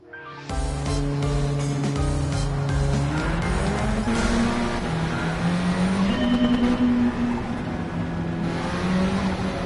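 Race cars, including a Mini, roar through a two-lap race in Gran Turismo 7, engines revving and climbing in pitch through gear changes, loud and continuous with no voices.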